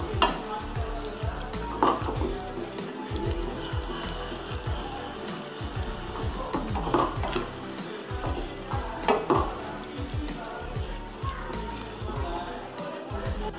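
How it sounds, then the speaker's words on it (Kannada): Jaggery melting in a pan for Uttara Karnataka pumpkin gargi, with a steady rhythm of spoon scrapes and soft knocks against the pan over a faint sizzle, continuing throughout with occasional speech. "ಒಂದು ಬಟ್ಲಷ್ಟು ನಾನು ಬೆಲ್ಲ ಹಾಕೊಂಡಾದ ಮೇಲೆ ಸ್ವಲ್ಪ ಕರಗಿಸ್ಕೊಳ್ಳಬೇಕು"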